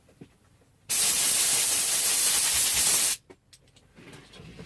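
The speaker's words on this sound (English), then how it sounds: "Right, a quick blast of air." A continuous, loud burst of compressed air hisses for about two seconds while cleaning out a 1972 Range Rover heater box, then stops abruptly, leaving quiet clatter.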